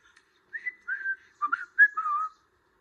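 A series of short whistled signal calls from a children's TV show, several distinct rising and sliding tones in quick succession, clear and fairly close with no talking.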